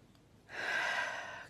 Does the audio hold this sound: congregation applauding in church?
no